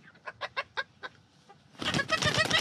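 A chicken held by the legs clucks in a run of short, evenly spaced calls, then breaks into a louder burst of agitated squawking flapping noise near the end.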